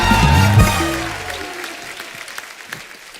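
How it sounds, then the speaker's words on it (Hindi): Studio audience applause on the Kapil Sharma Show, a comedy talk show, breaks out after a brief voice at the start, then thins and fades into scattered claps. "जोरदार तालियां।"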